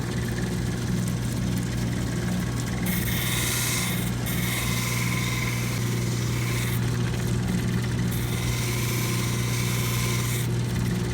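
Petoskey stone being polished at 8000 grit on a motorized wheel, a steady machine hum with a continuous rubbing, rasping texture that swells and eases in long passes, close and fairly loud with no talking.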